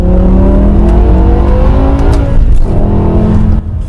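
A 2007 BMW E63 M6 with its V10 engine pulls hard while driving, a loud, steady rising drone with a brief dip in the middle before climbing again, heard from inside the car with no talk.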